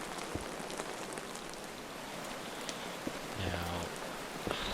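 Rain falls in modded Minecraft as a steady, even hiss of light patter with scattered crisp drop ticks, filling the background with no talking.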